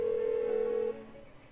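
An unanswered phone rings in Persona 4 Golden, a steady electronic ring tone holding for under a second before cutting off into quiet, with no voices.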